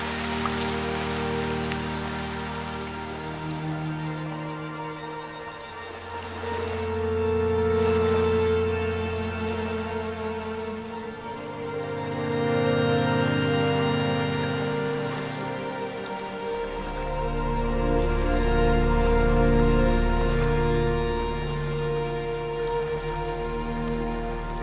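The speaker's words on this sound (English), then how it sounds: "It is starting to rain" Rain falls steadily on a forest trail under tall elms near Chapel Falls in Michigan's Upper Peninsula, a continuous wash of drops that swells and eases in waves for about 25 seconds, with no voices.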